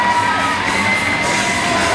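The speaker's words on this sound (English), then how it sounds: "listen to the applause of this capacity crowd" A capacity crowd at a wrestling battle royal in an amusement park roars with continuous loud cheering, yelling and applause, a dense wall of noise throughout.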